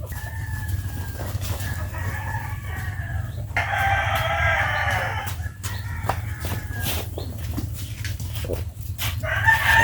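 Several chickens cluck and squawk, with a rooster crowing partway through, over a steady low hum, busy and moderately close.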